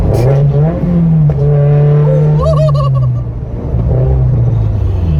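A turbocharged Subaru BRZ fitted with a Tomei 80R exhaust revs hard, loud and close, its raspy tone rising and falling through sharp blips, with a whooping yell bursting in over the engine midway.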